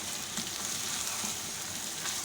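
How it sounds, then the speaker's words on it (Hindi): Chicken being stirred into frying onions in a karahi, a quiet, even hiss of sizzling oil that stays soft and steady throughout with no voices. "चिकन शामिल करके मैं अच्छी तरह प्याज के अंदर इसको मिक्स कर रही हूँ"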